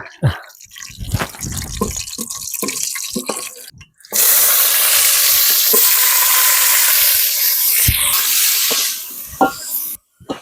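Onions and green chillies hit hot oil in a village-style pan: a few soft clinks and taps, then a sudden loud, steady sizzle that roars for about six seconds before cutting off.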